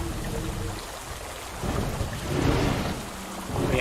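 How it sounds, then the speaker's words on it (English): Rain and thunder in the video game Dino Simulator: a steady wash of rainfall with low rumbling thunder that swells and fades in several rolling waves, and no voices. "Yeah, it's still raining."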